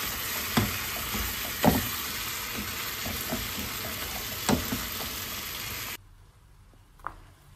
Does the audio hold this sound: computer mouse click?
no